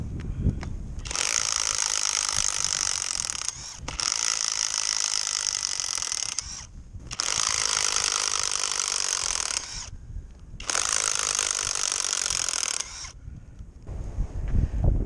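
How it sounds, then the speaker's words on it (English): Greenworks cordless impact driver driving a screw, giving four long bursts of loud, rapid mechanical hammering with brief pauses between them, close and with no voices. "I'd say the impact driver did pretty well."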